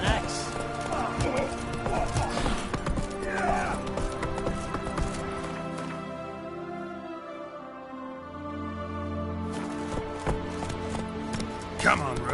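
Hooves clip-clop steadily as a horse moves along in a video game, close and rhythmic, with spoken dialogue over them for much of the time.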